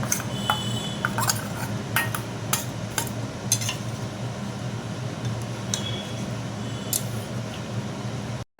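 Poppy seed paste is stirred into a bottle gourd curry in a pan, with sharp metal spoon clinks and scrapes scattered through the first seconds over a low steady bubbling simmer, then quieter squishy mixing.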